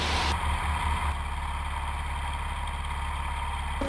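Steady mid-pitched engine drone of a Cessna 150 light airplane taxiing on the ground at an airport, loud and continuous throughout, with a few low thumps at the start and no talk.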